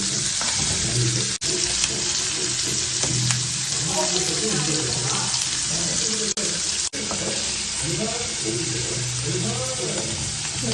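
Paneer fries in oil in a pan, giving a continuous loud sizzle with occasional bubbling pops, with a voice talking over it.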